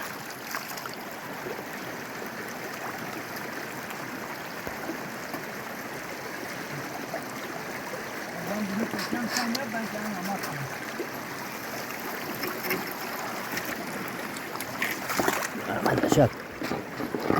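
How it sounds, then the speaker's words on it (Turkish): Water slowly poured out during gold panning outdoors, a soft continuous trickling and splashing that grows somewhat louder toward the end, with faint voices in the background. "Su dökelim böyle. Yavaş yavaş."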